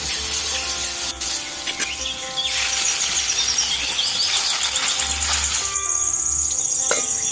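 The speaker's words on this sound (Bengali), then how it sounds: "এখন আমি এর মধ্যে পরিমাণ মতো দিয়ে দেবো জল।" Water is poured into hot, fried spice paste for a tangra fish curry, making a steady, close sizzling hiss that lasts throughout.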